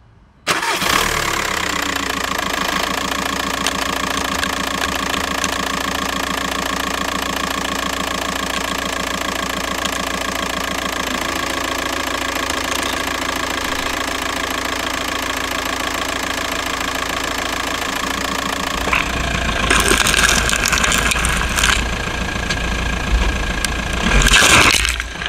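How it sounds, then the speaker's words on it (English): A car engine runs steadily at close range for about twenty seconds while the vehicle drives over an old PlayStation DualShock controller, ending in a louder burst of rough rumbling and crunching near the end. "let's go and see what happens when we are driving over this with a vehicle"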